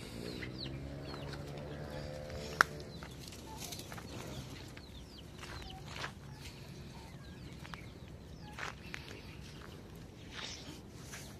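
Hens cluck and murmur softly at close range over steady farmyard background noise, with a sharp tap partway through and occasional distant bird calls.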